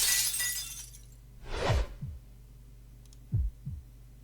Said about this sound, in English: I go flying, shattering the window